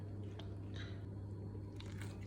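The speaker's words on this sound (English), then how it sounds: "I'm just going to keep mixing this and kneading it by hand." Focaccia dough is mixed and kneaded by hand, giving soft squishing and sticky slaps in a few irregular bursts over a steady low hum.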